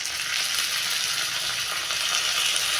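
Curry leaves hit hot oil in a pan and crackle into a loud, dense, continuous sizzle that holds steady throughout, with no voices over it.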